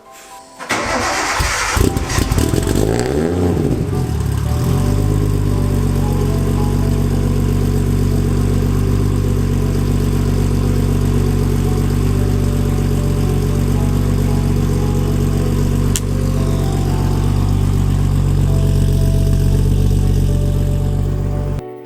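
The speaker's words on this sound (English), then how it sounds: "let me just turn the car on" A car fitted with an AEM digital dash cranks over and catches within a couple of seconds, then settles into a loud, steady idle that drones on close by for the rest of the time.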